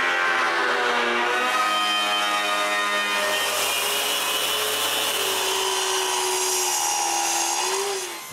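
A power saw cuts wood to size for the central divider of a bathroom towel cabinet, a loud, continuous whining buzz with shifting pitch as the blade bites, then tapering off at the end.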